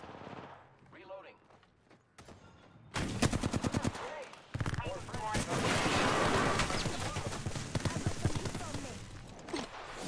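Bursts of rapid gunfire from a shooter video game, with dense automatic volleys that start loud a few seconds in and keep going through most of the stretch, mixed with game effects and some voice underneath.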